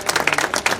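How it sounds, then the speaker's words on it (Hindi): Brief, lively burst of audience clapping at an honouring ceremony welcoming a Sahu community president as guest of honour. Dense, close, irregular claps of moderate loudness, lasting under a second. "इनके लिए जोरदार तालियों के साथ इनका स्वागत करें"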